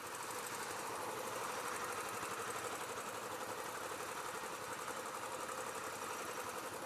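A Royal Enfield Classic 500 motorcycle engine runs steadily and fairly loud, a continuous throbbing drone with no pauses and no voices.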